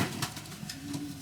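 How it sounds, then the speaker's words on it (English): Young pigeons cooing in a loft, soft repeated low coos with a gentle rolling rhythm, close and moderately quiet, no talking over them. "There we go, that's the pigeons."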